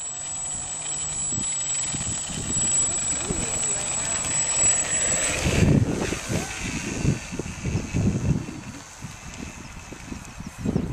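A World War II-era model remote-control airplane, its engine and propeller buzzing steadily as it flies past, louder and rougher toward the end with wind buffeting the microphone.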